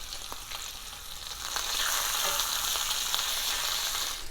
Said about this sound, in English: Make sure you flip the bacon when you feel like it's flippable.